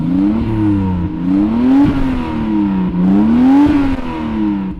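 A Mark IV Toyota Supra with its original Toyota engine revs loud and close, the pitch climbing and falling in about four repeated surges with no talking.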